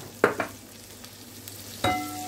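Oil sizzles faintly in a frying pan, with a few sharp clinks and scrapes of a utensil against the pan, before onion and mushrooms are fried.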